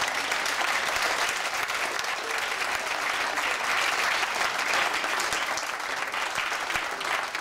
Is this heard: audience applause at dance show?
yes